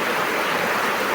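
Strong rain-fed water rushing down from the mountain past a pig pen, a dense steady roar of flowing water, close and continuous, with no other sounds.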